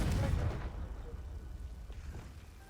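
The Confringo explosive spell goes off in the Hogwarts Legacy video game as a deep, booming blast that starts loud and fades into a rumbling tail over a couple of seconds.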